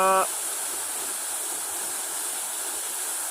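Steady, even rush of falling water from the Bagne waterfall at Resunga, constant and moderately loud throughout, with a brief tonal sound at the very start.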